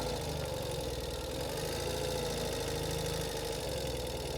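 Engine of a 2022 Ural Gear Up sidecar motorcycle in Ranger Green while riding, a steady, even drone with a low rumble that holds at constant level throughout, no talk.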